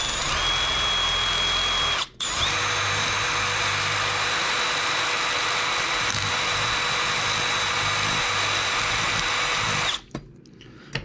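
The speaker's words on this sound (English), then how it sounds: "maybe we can just side drill this a little bit." A power drill whines steadily at close range for several seconds while side-drilling a plastic Wyze Cam casing, stopping briefly once, then running on before cutting off near the end.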